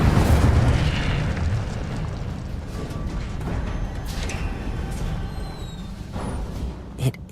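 The Incendio fire spell cast in Hogwarts Legacy, a roaring fiery blast at the start that slowly fades into a rumbling whoosh, ending with a small sharp pop.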